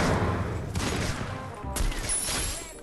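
Gunfire in the mobile battle royale game Free Fire, a dense, rapid burst of shots running continuously and loudly throughout, with a brief lull in the middle.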